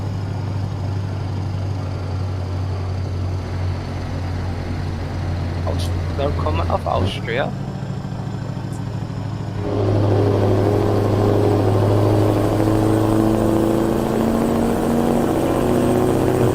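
A truck engine drones steadily while driving in a public convoy in Austria, a low constant hum throughout with a rise in road and engine noise partway through; a person talks briefly over it.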